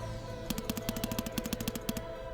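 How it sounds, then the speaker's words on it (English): Rapid automatic gunfire from the video game Defragmented, a burst of about a dozen sharp evenly spaced shots over steady droning game music and ambience, with no talking. "There's definitely some gunfire and such coming."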